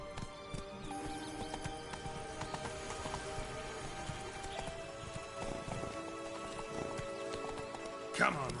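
Roach, a horse in The Witcher 3 video game, gallops with a continuous rhythmic clip-clop of hooves at close range, mixed with game ambience and a brief whinny-like burst near the end.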